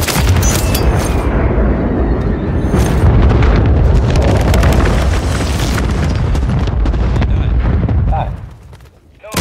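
Heavy explosions from a bombing run in a shooter video game, a dense, loud barrage of booming blasts and crackling impacts that rolls on continuously before dropping off near the end, followed by a final burst.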